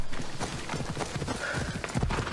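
A horse's hooves clip-clop in a quick, steady rhythm in Assassin's Creed Odyssey as the mount trots up after being whistled for, fairly close and continuous with no talk over it.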